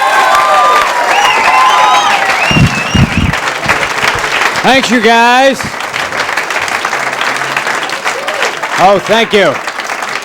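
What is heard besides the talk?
audience applause for comedian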